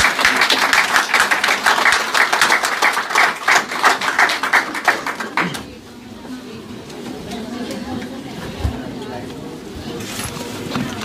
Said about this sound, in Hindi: इंतहाई अच्छी तरह से तालियां बजाएं ताकि हम इनका शुक्रिया कर सकें